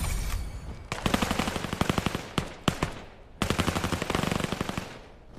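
Rapid automatic gunfire in a VR shooter game on Quest 3, two long loud bursts of tightly spaced shots separated by a brief pause, close and dominant with no talk.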